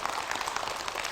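Brief burst of audience clapping during a Korean marketing lecture, a dense steady patter of many hands over about a second.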